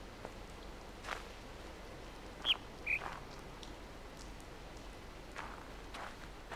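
A lone bird calls on the island in The Witness, two brief chirps in quick succession, faint and distant over a quiet ambient hiss, with a few soft footsteps around them.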